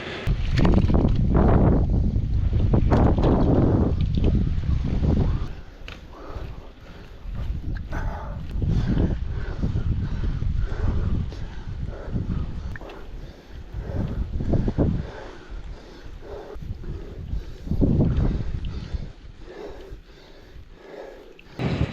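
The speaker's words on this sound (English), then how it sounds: "Just came over the top there, there was a 30-40 mile an hour headwind." A strong headwind of 30 to 40 mph buffets a cyclist's microphone on a moorland climb in Yorkshire, making a loud, rumbling roar that surges and dips without letup.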